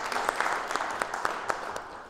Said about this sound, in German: Einmal Applaus